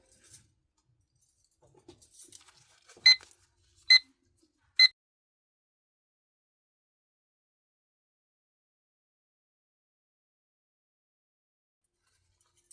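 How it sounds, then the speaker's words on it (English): A kitchen timer alarm going off in a quiet room, three short bright beeps spaced about a second apart after some faint rustling, then long silence. "Okay, our timer went off."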